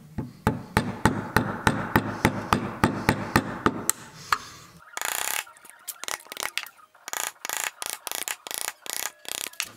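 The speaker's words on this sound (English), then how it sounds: "we're gonna chop that material back to this point here on that rail" A chisel is struck repeatedly with a mallet to chop back an English oak rail for a cupboard door joint: a fast, even run of sharp knocks, then scraping, crunchy cuts in short bursts, close and loud.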